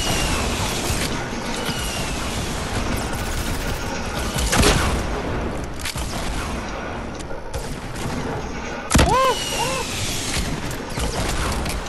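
Fortnite gunfire: a fast, dense crackle of shots under constant battle noise, with two heavy bursts standing out midway and near the end, loud and close.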